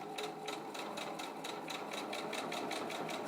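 A sewing machine runs steadily at a quick, even rhythm while topstitching a pleated fabric face mask, its needle ticking in regular close pulses with no voice over it.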